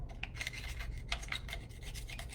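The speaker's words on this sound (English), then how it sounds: "This is where the sandpaper comes in handy." Sandpaper scraping steadily across an aluminium soda can while building a can stove, a continuous close gritty rasp with repeated back-and-forth strokes and no talking.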